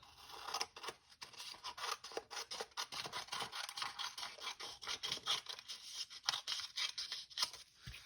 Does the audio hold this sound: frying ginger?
no